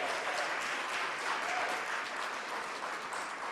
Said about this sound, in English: Let's give ourselves a warm round of applause.